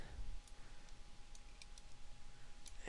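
A few faint, sharp computer mouse clicks tick out sparsely against a quiet background hum, right-clicks and double-clicks in 3D software.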